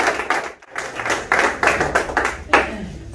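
Audience applause at a company's 20th anniversary celebration, heard as several bursts of hand clapping in close succession over about three seconds, moderately loud with a brief dip near the start.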